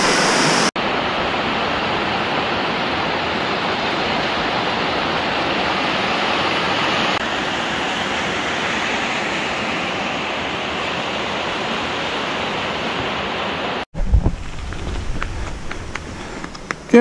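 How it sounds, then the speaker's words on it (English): Loud, steady rush of falling water roars continuously, then cuts off near the end to quieter rustling and handling noises. "Have a look at this waterfall."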